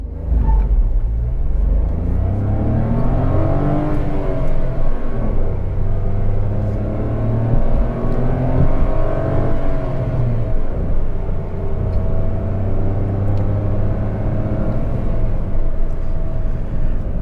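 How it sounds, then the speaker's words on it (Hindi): A 2025 Renault Triber facelift engine revving in first gear, a steady loud rumble with rising and falling harmonic tones, continuous with no talk. "Now let's put it in first gear, raving it, let's go."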